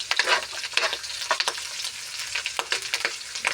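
Garlic and corn rice fry in a pan while being stirred, giving a close, steady crackling sizzle broken by repeated bursts of scraping and tossing.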